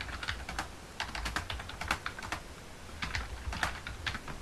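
Rapid typing on a computer keyboard, a steady close stream of light clicking keystrokes in irregular bursts with no voices.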